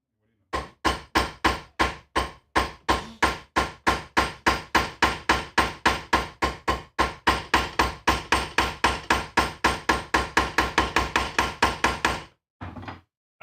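Dozens of sharp, evenly spaced hammer blows set rivets into a leather armor cuirass, striking steadily and loud, close to the listener, then stopping before a brief rustle at the end.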